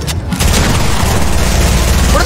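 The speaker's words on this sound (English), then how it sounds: "I heard three SMGs fire at the same time" Fortnite submachine-gun fire, several SMGs going off at once in a loud, dense, continuous burst of booming shots filling the whole stretch, with game noise layered under it.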